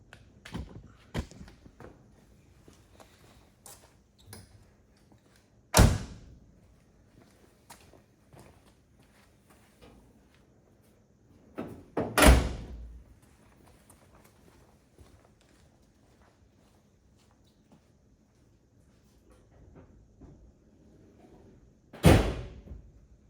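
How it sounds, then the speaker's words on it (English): Doors of a 1966 Chevrolet Corvair, an air-cooled rear-engine car, slam shut in three separate loud thuds spaced several seconds apart, with faint footsteps and shuffling in between. "Close these doors up."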